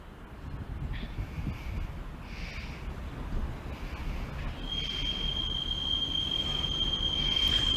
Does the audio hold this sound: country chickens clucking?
no